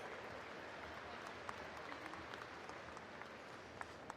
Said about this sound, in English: Let's clap for them anyway.